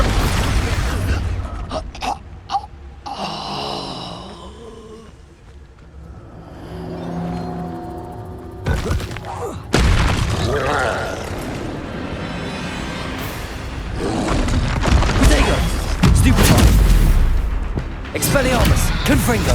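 Expulso spell blasts in the Hogwarts Legacy video game on PS5 Pro, loud booming explosions and crackling bursts mixed with combat effects and music, with in-game voices shouting over the din.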